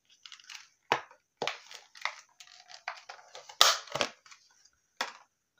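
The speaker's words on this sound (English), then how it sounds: "If I can get it out of the packaging," Mascara packaging being opened up close, a series of sharp crinkling, crunching and tearing bursts with short pauses between them, fairly quiet overall.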